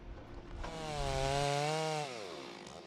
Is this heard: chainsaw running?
yes